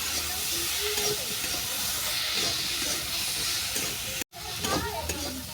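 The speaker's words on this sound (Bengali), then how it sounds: "আলু আর চিংড়ি চিংড়িটাকে পাঁচ সাত মিনিট ভেজে নিচ্ছি" Potatoes and shrimp with turmeric fry in a pan, a steady broadband sizzle with stirring scrapes, broken by a brief dropout near the end before the sizzle resumes.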